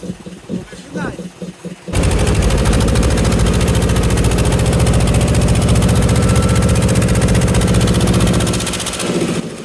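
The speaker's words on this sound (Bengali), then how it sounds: "টলার চালিয়ে আমরা যেখানে জাল পাতবো সেইখানে চলে যাচ্ছি" A fishing trawler's engine runs on a rough, rolling stormy sea, starting abruptly and holding a loud, steady, vibrating drone that eases slightly near the end.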